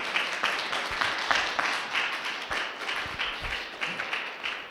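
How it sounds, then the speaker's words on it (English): Scattered audience applause at a symposium on Kansas schools and Native Americans, moderately quiet with individual claps audible in an uneven rhythm for several seconds, no speech. "Let's give them a round of applause."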